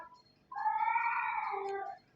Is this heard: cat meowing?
yes